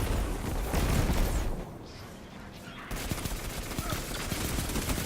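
Loud bursts of combat in Destiny 2, a grenade blast among dense gunfire with a short lull midway before the shooting resumes; faint talk sits underneath.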